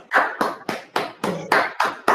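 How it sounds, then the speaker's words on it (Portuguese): Slow, evenly spaced handclaps, about eight close and distinct strikes at a steady rhythm, from a small group welcoming newly sworn lawyers at a virtual bar association card ceremony. "pelo menos uma salva de palmas a todos os colegas"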